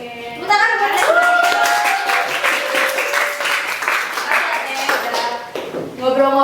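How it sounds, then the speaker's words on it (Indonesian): Applause for a guest on a podcast about banking and management studies: a few people clap close by for several seconds while voices talk over them. "Tepuk tangan buat Teh."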